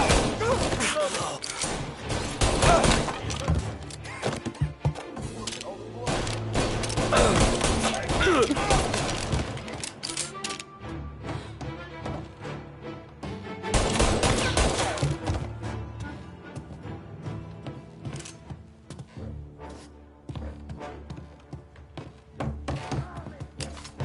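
Gunfire in the video game Mafia comes in clusters of loud, sharp shots across a busy scene with thuds and impacts, mixed with speech.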